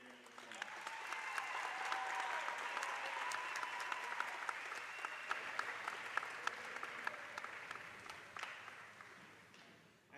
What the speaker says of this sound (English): Let's give our band a big round of applause.